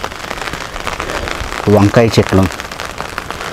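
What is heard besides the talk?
continuous rain falling on rooftop garden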